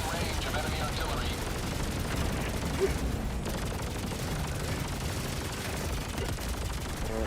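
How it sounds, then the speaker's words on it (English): Dense, continuous combat from Helldivers 2, with rapid gunfire bursts and heavy booming fire of the kind enemy artillery makes, rolling without pause at steady loudness. Voices sit under the din. "Warning, you are in range of enemy artillery."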